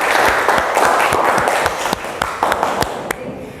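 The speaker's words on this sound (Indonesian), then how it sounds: "tepuk tangan" A classroom group claps together, a brisk run of overlapping hand claps at close range that thins and fades toward the end.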